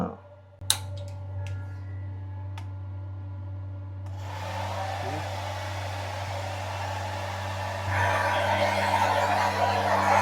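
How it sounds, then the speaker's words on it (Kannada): A hair dryer runs in a budget OYO hotel room, giving a steady close whir that grows louder in two steps as it picks up. A couple of faint clicks come just before it starts. "ಏರ್ ಡ್ರೈಯರ್ ಗುರು ಇದು. ಏರ್ ಡ್ರೈಯರ್ ಆನ್ ಆಗುತ್ತಾ?"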